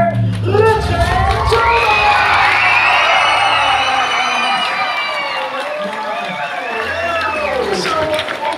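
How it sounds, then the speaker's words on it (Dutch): A crowd at a live fan-day show cheers, whoops and applauds loudly and continuously, with high excited shouts from young fans rising over a steady roar. "Jongens en meisjes, geef een groot applaus voor Rutger en"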